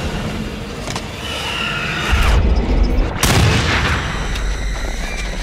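A propane tank blows up in the horror game Until Dawn, a loud low boom that swells mid-clip over steady engine-like rumble, followed by a second heavy burst and lingering roar.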